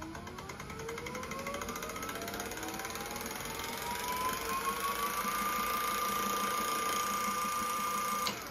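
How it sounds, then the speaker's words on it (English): Electric motors driven by a VESC controller during motor detection spin up with a rising whine that climbs steadily in pitch, then holds a constant tone, a close mechanical hum with faint ticking underneath. "Now it's going to spin the motors up to detect the flux linkage."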